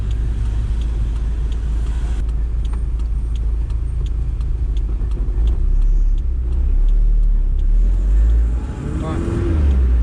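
A car accelerating up to 70 km/h, a loud steady engine drone with deep rumbling and a slight rise in pitch, plus a row of faint regular ticks partway through.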